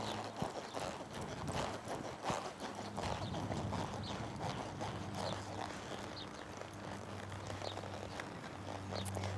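A horse's hooves clip-clop steadily at a slow working pace in an arena, with occasional louder strikes and a low background rumble; no talk.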